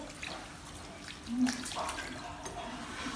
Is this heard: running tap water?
yes